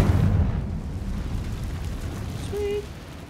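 A Confringo explosion spell bursts in the wizarding game Hogwarts Legacy, a loud, rumbling blast that fills the opening and lingers as a noisy roar, with a brief bright magical tone near the end.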